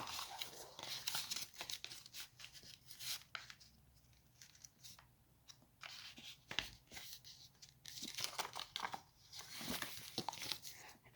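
Paper being creased and folded into a paper figure, with crisp crinkles and sharp rustling snaps coming in irregular bursts, close and fairly quiet, no voices.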